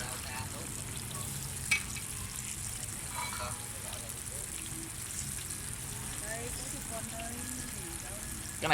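Bananas fry in hot oil at a Vietnamese street food stall, a steady close sizzle with occasional stirring clinks while people chat nearby.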